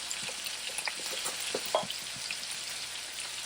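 Garlic and onion powder cooking in a pan for three-meat fried rice, a soft steady sizzle with scattered light pops and crackles, fairly quiet and close.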